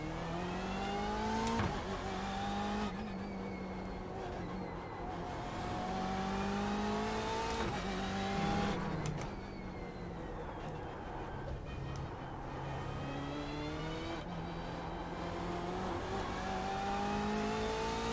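Race car engine lapping the Nurburgring circuit in the iRacing sim, a steady high whine that climbs through the gears and drops sharply on each shift, repeating throughout with no talk.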